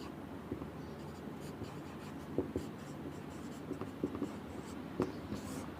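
Chalk or marker scratches steadily across a board as a word is written out, with soft repeated strokes and small taps over a noisy room hum, close and moderately quiet.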